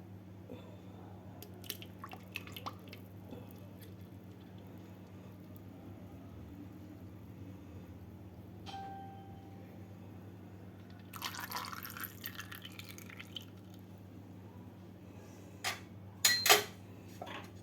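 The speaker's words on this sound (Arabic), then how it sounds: "صافي دابا غادا ندير الزيت البلديه في الخلاط." Beldi oil is poured into a blender in a home kitchen, giving faint dripping and trickling liquid sounds over a steady low hum, with a few brief clinks and a louder splash near the end.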